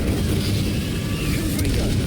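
An Incendio fire spell cast in Hogwarts Legacy, a loud, dense roaring burst of flame that fills the moment without letting up.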